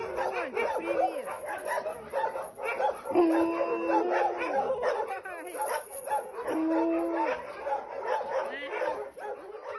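An Alaskan Malamute named Mika vocalizes in a run of yips, whines and howl-like cries, close and frequent, with someone talking over and between them.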